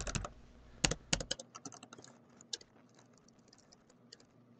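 Typing on a computer keyboard while entering a username and password for a Drupal install on a web host: uneven bursts of close, crisp key clicks, louder at first and then lighter and sparser, with no voices.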